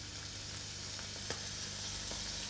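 Anchovy fillets and capers sizzle steadily in hot oil, a dense close frying hiss with a faint crackle and one brief clink partway through.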